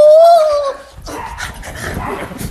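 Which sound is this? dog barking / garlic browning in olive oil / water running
dog barking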